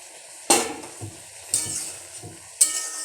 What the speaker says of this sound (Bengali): এই ফুলকপি আলু তরকারি রান্না হচ্ছে এখানে